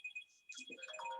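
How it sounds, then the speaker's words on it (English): A mobile phone ringtone goes off during a talk at a caregiving speaker event: a bright, repeating electronic chime pattern with short gaps, loud and near, joined partway through by other sounds. "My phone, I should have switched off."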